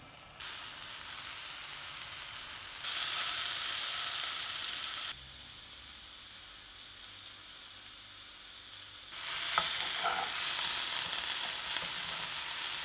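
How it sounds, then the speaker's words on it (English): Bacon-wrapped avocado frying in a pan, a steady close sizzle that shifts louder and softer in stretches as the pan is moved, with a few faint clinks near the end. "I'm gonna try and fry it anyway"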